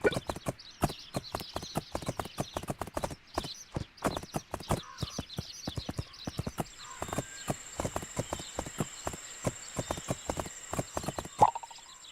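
Horse hooves clip-clop in a quick, steady rhythm for a long stretch in the PC video game My Little Riding Champion, with a faint whinny and a brief high tone near the end.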